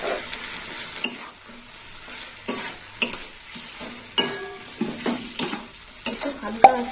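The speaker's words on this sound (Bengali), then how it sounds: "মশলার সঙ্গে আলুটা এইরকম কষা হচ্ছে, আর একটু কষতে হবে।" Potatoes being sautéed with spices in a pan for a rohu fish curry with mango, giving a steady close sizzle broken by repeated scraping stirs of a utensil against the pan.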